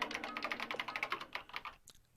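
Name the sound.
keyboard typing in the Danganronpa video game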